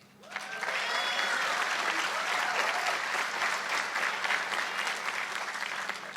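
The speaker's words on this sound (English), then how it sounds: "Another round of applause" Large commencement audience for an economics graduation giving a full, steady round of applause that starts abruptly and holds dense and loud for several seconds before easing slightly.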